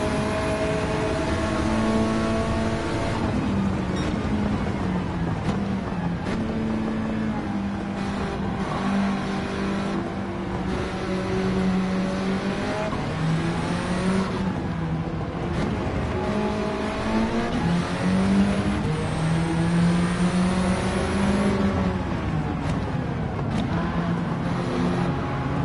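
A Honda Integra with a swapped-in K20 2.0-liter engine, replacing its original B-series 1.6, drives in Gran Turismo 7, its engine revving up and down through gear changes in a loud, continuous run with no voices.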